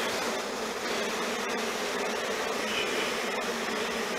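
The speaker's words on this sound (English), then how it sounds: "a lot of bees in this box." A dense, steady drone of many honeybees buzzing close by inside a box, continuous and unbroken throughout.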